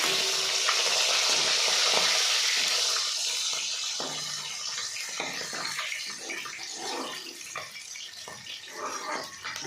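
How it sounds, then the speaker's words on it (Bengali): Steady crackling sizzle of rohu fish pieces frying in hot oil, dense and continuous, with occasional louder pops and light clatter close by. "মাছগুলো সুন্দর করে ভাজা হয়ে যাচ্ছে"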